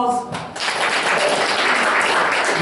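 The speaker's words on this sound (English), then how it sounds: "give yourself a round of applause" An audience at a St. Louis Visalus event breaks into applause, a loud, broad wash of many clapping hands that swells after a brief moment of voices and holds steady to the end.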